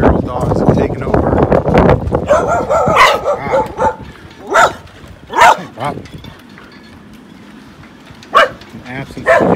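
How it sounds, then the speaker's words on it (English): Feral dogs left behind in a deserted bay town during a tropical storm bark in loud separate bursts, several sharp barks spaced irregularly, with yips and whimpers and people talking over the first half. "Feral dogs have taken over."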